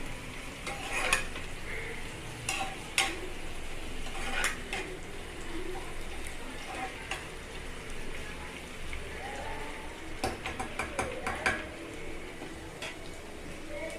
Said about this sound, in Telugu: ఇవి వేగిని పుదీనా, కొత్తిమీర, కరివేపాకు ఇవి కూడా కొంచెం వేగనిస్తాను